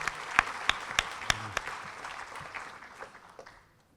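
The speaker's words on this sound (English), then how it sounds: "So give yourselves a round of applause" A senior awards crowd gives a round of applause with a few sharp claps standing out at first, then the clapping thins and fades away.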